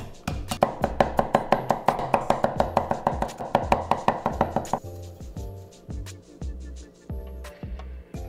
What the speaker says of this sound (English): Now mince up some garlic.